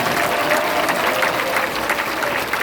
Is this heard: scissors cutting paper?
no